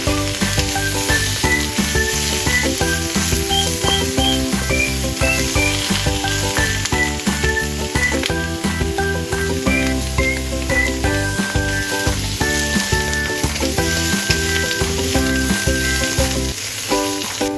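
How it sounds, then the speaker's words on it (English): Bamboo shoots with Sichuan peppercorns and dried chilies stir-fry in hot oil, a loud continuous sizzle with stirring under steady background music. "Add bamboo shoots and stir-fry."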